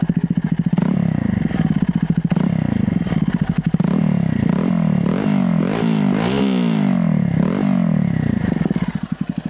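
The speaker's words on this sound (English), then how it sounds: "so let's hear the exhaust note" A Hero XPulse motorcycle fitted with an Akrapovic slip-on silencer idles with a loud, close, throbbing exhaust note, then is blipped through several rising and falling revs with some mechanical clatter.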